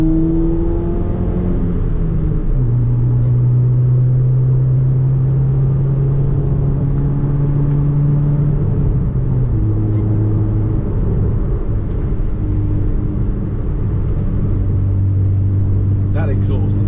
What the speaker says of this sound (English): That exhaust is lovely,